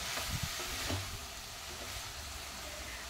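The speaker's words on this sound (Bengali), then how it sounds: "এরমভাবে আস্তে আস্তে করে ফ্লেম লো রেখে আমি ভাজতে থাকবো।" Drumstick flowers fry slowly in a pan over a low flame, a quiet continuous sizzle with a few soft stirring scrapes near the start.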